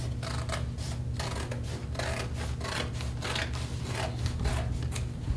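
Scissors snipping steadily along the edge of a blue jean seam, a continuous close crunching of blades through heavy denim with repeated cutting strokes over a low steady hum.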